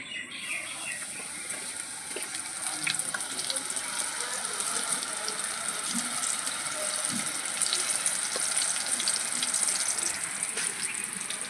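Batter-dipped water lily stems or banana blossom peels are dropped into hot oil, giving a steady, dense crackling sizzle throughout with no one talking.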